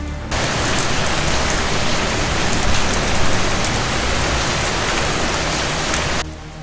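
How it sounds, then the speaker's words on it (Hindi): Heavy rain in a forest pours steadily in a dense, constant hiss of drops striking surfaces, loud and unbroken, then cuts off abruptly. "लेकिन थोड़ी ही देर में बारिश तेज हो गई।"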